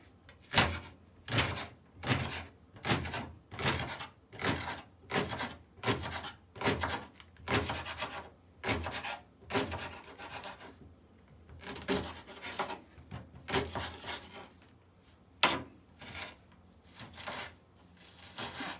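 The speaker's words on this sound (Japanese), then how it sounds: "じゃあまずネギを適量切っていきます。" A knife chops green onions on a cutting board for takoyaki, giving a steady run of sharp, evenly spaced close knocks that pause briefly midway and then resume.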